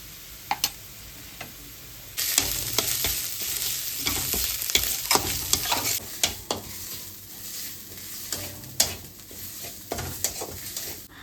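Ginger, garlic and cumin paste fries in hot oil for a tamarind-dal chicken curry, a steady close sizzle broken by repeated sharp scraping and tapping of a spatula against the pan, with no talking.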